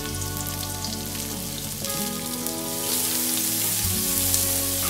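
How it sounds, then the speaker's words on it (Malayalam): Chopped onion sizzles in hot oil with cumin, garlic and ginger for a Kerala-style dal curry, a continuous close frying hiss that grows brighter and louder midway through, with no talking. "ചെറുതായിട്ട് അരിഞ്ഞ സവാള ചേർത്ത് ഇളക്കുക"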